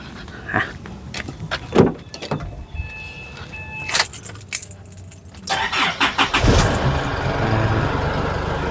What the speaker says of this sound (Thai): เดี๋ยวผมสตาร์ทเครื่องฟังเสียงดูนะครับผม